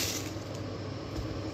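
Water is poured out of a container holding rice. It makes a steady, close splashing hiss that lasts under two seconds.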